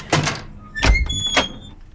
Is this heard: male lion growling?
no